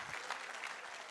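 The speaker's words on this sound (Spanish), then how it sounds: "Si va a aplaudir a Jesús, hágalo con toda su fuerza." Brief, faint burst of clapping from a church congregation, soft and distant.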